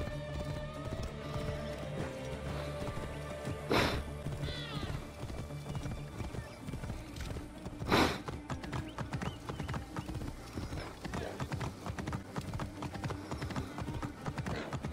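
A horse in Assassin's Creed Origins trots with steady clip-clop hooves throughout, giving two short whinnies along the way, all under game music and ambient sound.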